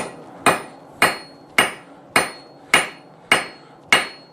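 A hammer flattens hot steel for a chisel on an anvil: seven sharp, ringing metallic blows struck at an even, unhurried rhythm, each one decaying quickly, close and loud with no talk.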